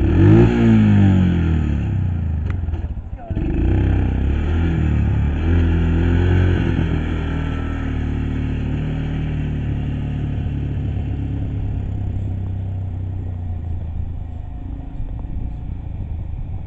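A four-wheeler ATV engine revs sharply close by, then settles into a steady rumbling drone as it drives around a shed, loud and continuous with a brief dip early on.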